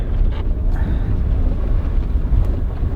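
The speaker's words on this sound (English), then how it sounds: "It is super windy and rainy out" Strong wind buffets the microphone outdoors in heavy rain in a wet Washington forest, a loud, constant low rumble with gusty fluctuations throughout, no voices.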